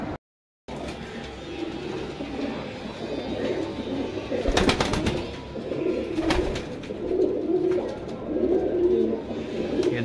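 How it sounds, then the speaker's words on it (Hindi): Stamped flying pigeons sold in Govandi, Mumbai, coo softly and repeatedly in a loose rhythm, with occasional wing flutters and handling noise close by after a brief silent start. "आप देख लो मोहर लगे हुए उड़े हुए कबूतर है।"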